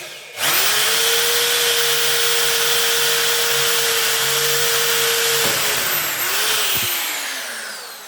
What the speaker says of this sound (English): just drill all the way through into the scrap piece